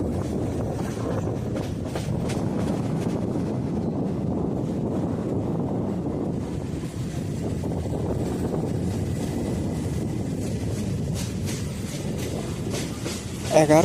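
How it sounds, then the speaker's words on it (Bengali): A Sealdah–Dankuni local train arrives at Baranagar Road station, giving a continuous rumbling roar of carriages on the rails that holds steady throughout, close and loud. "কিলোমিটার জার্নি কমপ্লিট করে আমাদের ট্রেন এসে গেছে"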